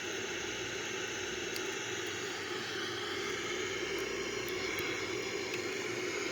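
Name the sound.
Boeing 787 airliner descending toward airport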